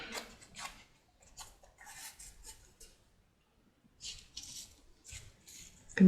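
Scissors snip through a length of eyelet trim in a few short, close, dry bursts separated by quiet pauses, with no talking.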